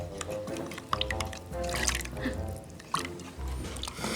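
Liquid is poured and stirred in a Southern home kitchen, with splashing, dripping and wet sloshing in uneven bursts, fairly close and moderately loud, along with clinks and background clatter.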